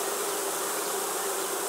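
A swarm of honeybees buzzes in a dense, steady drone that fills the air at close range, continuous and unbroken with no voices.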